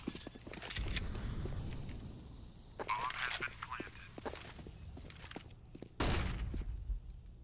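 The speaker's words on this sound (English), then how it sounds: "Seized has actually managed to steal a kill with a P250" Counter-Strike gunfire on the Mirage map during a match, with bursts of shots and clattering game effects under a caster's steady commentary.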